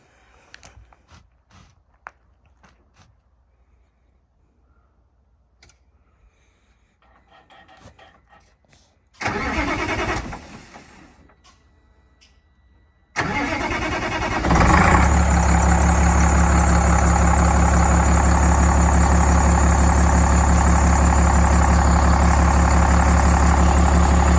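An MCI bus engine cranks with a short burst, then fires and settles into a loud, steady low-pitched idle that continues to the end, close by and outdoors.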